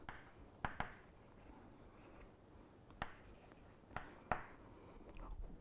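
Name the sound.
writing on a board during a lecture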